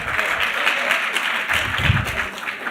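A conference audience claps in a steady, fairly loud patter of many hands filling the hall, continuing without a break for a few seconds.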